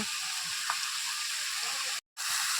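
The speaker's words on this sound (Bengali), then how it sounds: "এবার এখন মাংসটাকে ভালো করে কষিয়ে নেব" Meat stir-frying in a wok over a wood-fired clay stove, a steady hiss and sizzle with faint scraping, broken by a brief moment of silence before the sizzle resumes.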